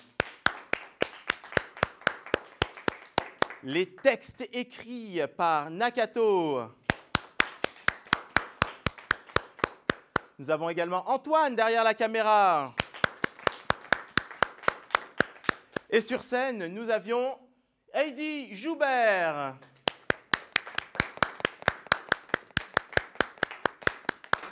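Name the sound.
theatre audience applauding the team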